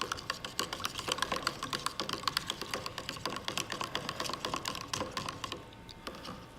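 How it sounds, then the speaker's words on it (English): A spoon stirs creamer into coffee in a cup, giving a quick, steady run of small clinks and taps that carries on for several seconds, close by and fairly quiet. "Got our coffee all stirred up."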